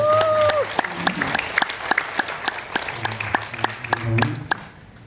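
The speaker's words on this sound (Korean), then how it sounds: "박수 한번 크게 보내주십시오." A church congregation applauds after a vocal ensemble's song during a service, with a spread of sharp individual claps in an uneven rhythm and a brief voice early on, fading near the end.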